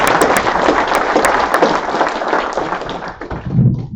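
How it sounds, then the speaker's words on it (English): Audience applause at the World Freshwater Spearfishing Championships 2017 awards ceremony: a loud, dense round of clapping from a crowd that thins near the end, with a few sharp taps at the start and a low voice as it fades. "One more round of applause for the Wright"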